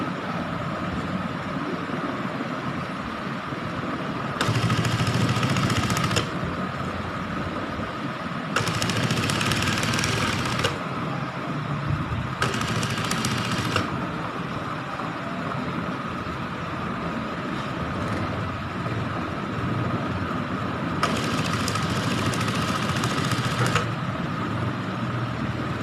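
A sewing machine stitches the collar of a men's shirt in several runs of whirring, a few seconds each, over steady machine and room hum.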